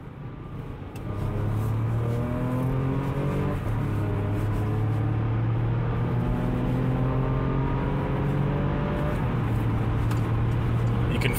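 Porsche Macan S engine while driving, captured from inside the cabin: a loud, sustained engine note that swells after the first second and holds strong as revs climb and shift, with road and wind noise beneath.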